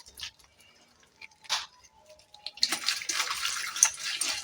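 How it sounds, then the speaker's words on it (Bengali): Salted snakehead fish washed under running water, with a few faint handling taps at first and then a steady splashing gush of tap water that grows louder and continues to the end. "নুন মাখানো হয়ে গেছে আমি এবার ধুয়ে নেবো মাছটাকে"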